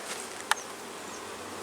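Honey bees drone at an open hive as a soft, steady outdoor buzz, with one brief sharp click partway through.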